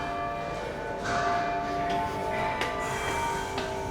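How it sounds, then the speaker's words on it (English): Church bells ring with sustained, overlapping tones and several fresh strikes, fairly loud and continuous, with no voices over them. "The bells are ringing, people."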